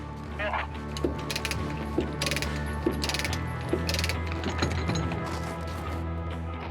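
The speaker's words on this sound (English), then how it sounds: "We're going to tighten the chains up on the one side" Chains are ratcheted tight on one side of a collapsed, flattened cart frame on a Canadian rail line, giving repeated mechanical clicking and clanking at a steady pace, fairly close.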